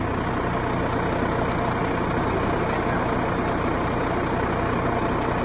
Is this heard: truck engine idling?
yes